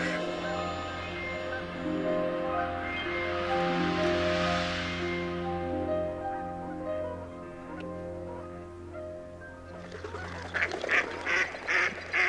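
A large flock of Canada geese honks continuously at Dundee marsh, a dense overlapping chorus of many birds near and far that swells and fades, with sharper individual honks standing out toward the end.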